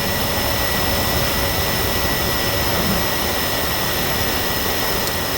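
Blade 350 QX quadcopter drone motors spin up toward takeoff, a steady, loud, even whir holding throughout without pause, indoors just off the floor.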